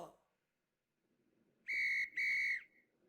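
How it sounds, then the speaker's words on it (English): A dog training whistle shrills twice in a duck hunting video game, two sustained loud blasts in close succession with a short gap, over a faint background hum. "He didn't obey, so I blew the whistle."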